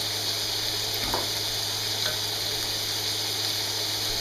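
Butter sizzles steadily in a hot pan, a dense, even frying hiss throughout with a couple of faint clinks partway through.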